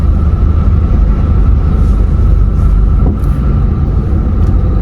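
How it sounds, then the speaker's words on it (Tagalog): Road traffic in Batangas rumbles loudly and continuously, a dense low drone of passing engines with no speech, steady throughout the few seconds. "Ang traffic naman dito sa Batangas."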